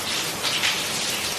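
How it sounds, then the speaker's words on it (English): Heavy rain driven by strong Hurricane Ian winds in Florida at night, a loud, continuous roaring wash with gusty swells, with no voices. "Very strong wind and heavy rain."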